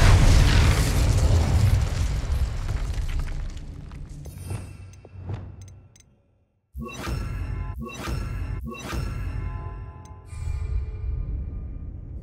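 Fiery spell blasts in Hogwarts Legacy: a long roaring burst of flame and rumble at first, fading to near silence, then several sharp crackling impacts in quick succession with whooshing bursts, loud and close.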